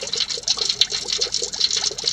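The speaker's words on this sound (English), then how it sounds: "it's bubbling vigorously. That's all that water that's in that shell, in the iron, boiling off." Water boiling off inside an iron Civil War artillery shell, a continuous fizzing and vigorous bubbling with rapid small pops and crackles, close and steady with no talking.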